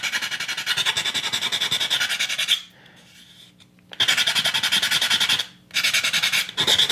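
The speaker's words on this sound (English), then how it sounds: "Just using a coarse sanding stick." A part for a book nook kit being rubbed down with a coarse sanding stick: loud, close, rhythmic rasping strokes in fast back-and-forth runs, broken by two short pauses.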